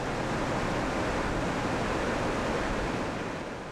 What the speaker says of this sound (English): When the surf takes it out, it's great.